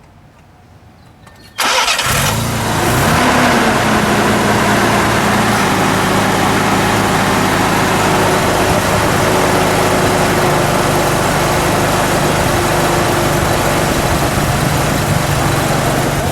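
A red 1979 Mazda RX-7 with a Wankel rotary engine and dual coils cranks briefly after near silence, then catches and settles into a steady, close, smooth idle that runs on alone.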